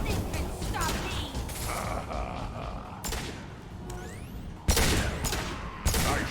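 Mass Effect 2 Legendary Edition combat gunfire: a run of scattered shots, then several loud, sharp blasts over a busy game soundscape.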